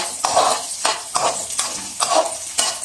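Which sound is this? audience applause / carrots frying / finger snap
carrots frying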